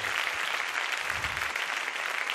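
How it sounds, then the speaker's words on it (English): Church congregation applauding with sustained, dense clapping that fills the space, steady and loud throughout with no break. "If you love the bishop, would you clap your hands and get loud and thank the Lord?"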